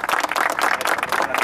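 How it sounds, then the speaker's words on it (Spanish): Applause from a small group at a veterans' league football gathering after a match, dense steady clapping sustained throughout at close range with no break. "Venga, un aplauso."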